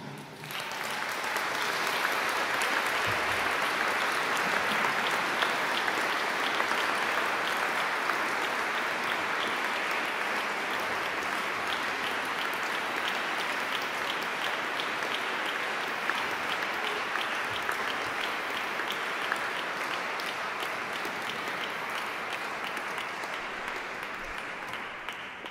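An audience in a church applauds to welcome a yodel club at a concert in Oberes Entlebuch, sustained even clapping from many hands lasting about twenty-five seconds without a break.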